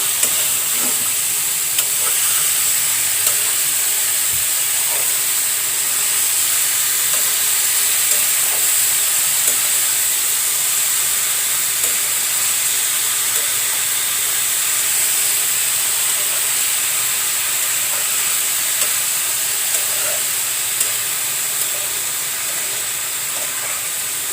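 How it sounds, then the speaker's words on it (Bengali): Bottle gourd fries in a pan with a steady, close sizzle and hiss. Faint scattered pops and stirring clicks sound throughout, and no voices are heard. "আজকে লাউ আমি ভাজি রান্না করব, মাখানো মাখানো।"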